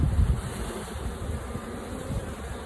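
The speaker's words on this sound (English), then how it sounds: "So this is a frame of bees." Honeybees on a frame lifted from an open hive hum in a soft, continuous buzz, faint and steady with a low rumble of wind beneath.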